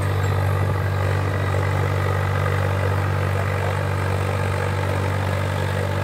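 Swaraj 744 FE tractor pulling a 14-disk harrow in a field, its engine running at a steady, deep, loud drone throughout with a constant low throb and no change in pace.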